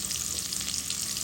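Onions and potatoes frying in hot oil, heard as a brief, loud, continuous sizzling hiss close up.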